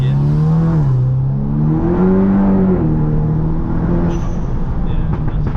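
A 400bhp VW Scirocco R engine pulls hard under acceleration, its loud droning note rising and falling through a gear change and then climbing again, heard from inside the car.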